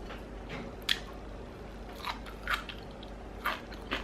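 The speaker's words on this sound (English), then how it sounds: "can you hear that crunch?" Crunchy onion rings are bitten and chewed close to the mouth, with several distinct crisp crunches spaced about a second apart over a soft background hiss.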